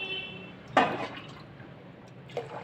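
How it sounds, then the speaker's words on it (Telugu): Water is poured over washed rice and moong dal in two short splashing bursts, the first stronger, with quiet pauses around them. "గ్లాసుకి 2 గ్లాసులు నీళ్ళు పోయాలండి"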